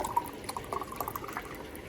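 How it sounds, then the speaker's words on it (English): Broth poured into a glass jar in a home kitchen, a soft, steady trickle with light splashes and gurgles, faint and close, no voices. "Fill up my jar and clean it with the broth."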